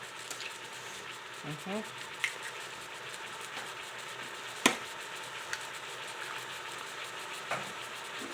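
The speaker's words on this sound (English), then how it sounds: "this might be a little loud because it's going to start searing that" Hamburger meat sears in a hot pan for a cheesy keto casserole, giving a steady broadband hiss with a few sharp pops and crackles, close and continuous with no talking.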